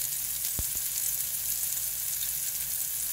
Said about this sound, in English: So I'm going to sear it on this side.